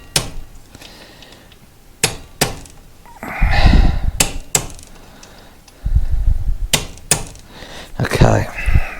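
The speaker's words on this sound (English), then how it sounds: "I just get the rubber mallet and leaving the nut on it, just tap that through a bit" A rubber mallet taps a nut on a Royal Enfield Himalayan rear brake, sharp thuds spaced a second or two apart, with someone talking in between.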